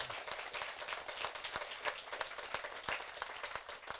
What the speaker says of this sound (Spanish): Fuerte ese aplauso al Señor y Salvador Jesús.